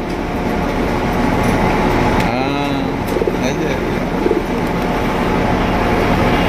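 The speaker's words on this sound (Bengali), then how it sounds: "ব্লু বাললেস একটু ডাক দেয় রে ভাই, ডাকবে অবশ্যই" Pigeons of the Blue Bald breed coo in a loft, soft rolling coos heard close against a busy background murmur with someone talking nearby.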